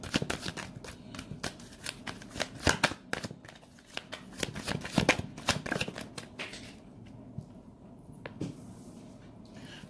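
Tarot cards get shuffled steadily to draw a single card, giving dense overhand riffles with rapid papery slaps close up that go on for several seconds and then thin out into a quieter pause.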